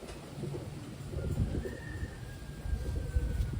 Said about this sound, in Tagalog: Big size ito mga kalapatids.